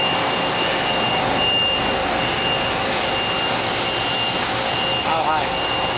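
Fadal VMC5020A 4-axis CNC vertical machining center spindle spinning at high RPM, a loud, constant roaring whir with a thin high whine held steadily throughout.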